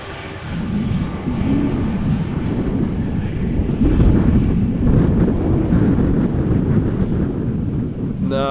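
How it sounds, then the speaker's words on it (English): Strong wind buffets the microphone at Amsterdam Schiphol Airport, a continuous low rumbling roar that swells and eases, with a faint aircraft drone underneath. "I was about to say slowed down a little bit, but now it's picking up again."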